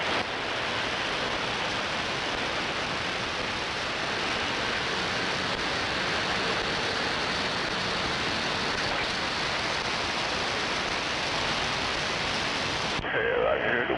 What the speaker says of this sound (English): I can hear the wind blowing